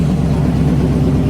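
A deep, steady pickup truck engine rumble at a car and truck show, close and continuous with a low throbbing pulse.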